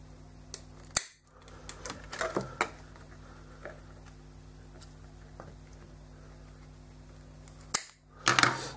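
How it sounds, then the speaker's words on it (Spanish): Scissors snip paper or card for a 1/50 scale model crate, a few sharp close clicks and cuts scattered across a quiet room, with a cluster of snips at the end. "Y cogemos las tijeras y vamos cortando."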